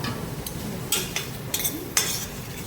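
A spoon stirs chicken masala with spices in a pan, producing several sharp scraping clinks against the metal over a soft sizzling background, close and fairly loud, with no talking.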